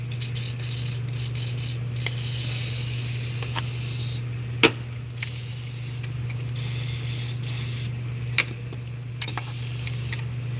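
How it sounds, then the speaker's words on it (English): Motorcraft cleaner sprayed from a can onto the 2.0 EcoBoost engine of a 2014 Ford Escape during a front cover reseal, a steady close hiss over a constant low hum, with a few sharp clicks and knocks along the way. "You know what the hell with it? I'm gonna spray all this."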